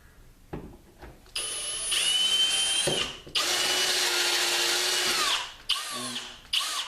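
A power trimmer whirs on the end of a brass tube in bursts, a close high-pitched drill-like whine that starts and stops several times with short pauses between runs.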